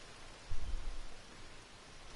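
Steady hiss of rain falling across open countryside in Red Dead Redemption 2, a soft even wash of noise with a faint low rumble near the start.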